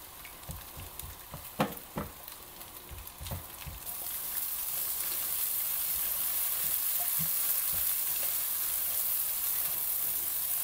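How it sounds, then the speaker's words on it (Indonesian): Two eggs poured into a hot pan beside pushed-aside noodle ingredients for mie kluntung, with a few sharp clacks of stirring before a steady loud sizzle takes over and holds. "Masukkan telur. Kita orak-arik."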